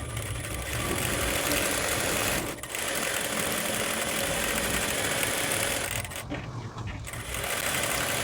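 A domestic sewing machine runs steadily, stitching a cotton lining onto a baby's cap, a continuous close whirring broken by one brief pause and a short slowdown.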